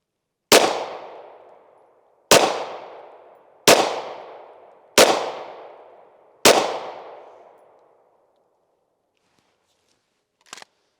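Five 9mm pistol rounds fired at soft body armor outdoors, each a sharp loud crack with a ringing decay, spaced about one and a half seconds apart, followed by silence and a faint click.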